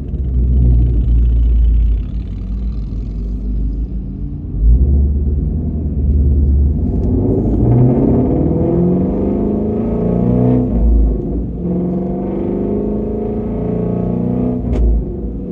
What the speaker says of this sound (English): let's go ahead and go for a drive